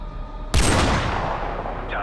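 A single loud sniper rifle shot goes off in the Call of Duty Modern Warfare video game, a sharp crack followed by a long, rumbling, fading echo.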